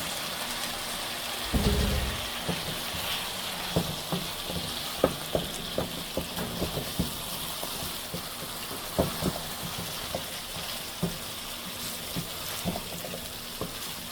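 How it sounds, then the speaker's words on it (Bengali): Potatoes dropped into spiced oil in a pan for a dried loitta fish curry: a loud burst of sizzling as they go in, then a steady fry with regular stirring clinks and scrapes, close by and with no one talking. "মশলাটা কষাটা হয়ে গেছে, তেল ছেড়ে দিচ্ছে। আলু দিয়ে দিলাম"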